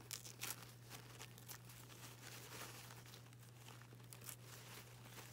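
A thin paper napkin being torn by hand for decoupage, giving soft crinkling and ripping bursts over a steady low hum, close and fairly quiet, with no talking.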